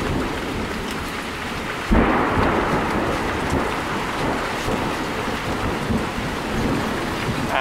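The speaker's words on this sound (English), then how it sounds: "there are like hailstones shooting off the roof right here" Heavy rain and hail pounding a roof during an intense northeast Texas thunderstorm, a dense, loud continuous clatter that surges abruptly after about two seconds and stays strong.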